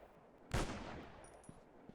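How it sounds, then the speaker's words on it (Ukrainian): A single sharp gunshot in a mobile video game cracks out, followed by a long fading echo and a couple of faint thuds afterward. "постріляти з різних видів зброї"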